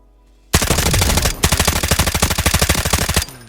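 Rapid automatic gunfire in the mobile shooter game Delta Force, two loud sustained bursts of evenly spaced shots separated by a brief pause, close and dominant.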